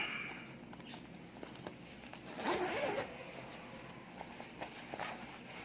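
A zipper is pulled open in one quick rasping stroke near the middle, with faint handling rustles before and after in a quiet room.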